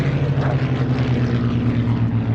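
A propeller aircraft taxis at the Shuttleworth air show, its engine drone steady and close with a strong low hum and a throbbing rhythm over a short stretch, no voices.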